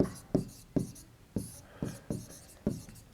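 Quick strokes mark non-negativity constraints on a board, landing as a string of short, distinct taps and scrapes at an uneven rhythm, close and fairly quiet.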